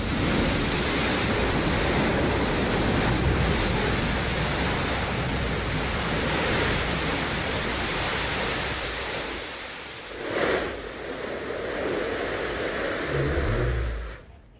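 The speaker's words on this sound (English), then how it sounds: "There it is, engine ignition, engine relight coming in for a landing." Blue Origin New Shepard booster's BE-3 rocket engine relighting for landing, a loud sustained broadband roar with a brief surge near the end before it cuts off abruptly.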